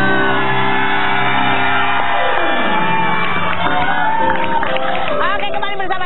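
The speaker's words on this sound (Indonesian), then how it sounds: "Tepuk tangan lagi dong" A studio audience on an Indonesian celebrity gossip talk show claps and cheers loudly, mixed with sweeping show music and voices throughout.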